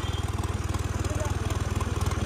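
A tractor engine idles with a steady, fast low thumping pulse, close and even throughout, with no voices audible.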